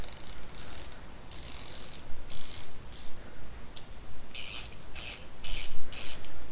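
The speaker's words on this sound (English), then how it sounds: "it's a 58 tooth ratcheting mechanism" A 58-tooth ratcheting screwdriver mechanism clicking: fine, rapid ratchet chatter in repeated bursts of roughly half a second, separated by brief gaps, loud and close with no voices.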